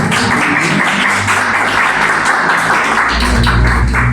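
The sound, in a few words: congregation applause for María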